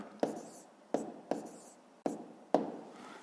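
A pen writes numbers by hand on paper in five distinct strokes, each starting with a sharp tap and scratching briefly before fading, spaced irregularly and close up.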